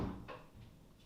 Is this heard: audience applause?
no